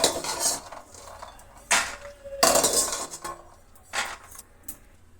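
Roasted peanuts clatter from a pan onto a plate in a home kitchen, in several sharp bursts of rattling metal and scraping, with quiet gaps between.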